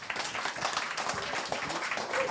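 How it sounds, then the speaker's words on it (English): An audience claps steadily throughout, a dense continuous wash of applause without voices. "So please give big applause"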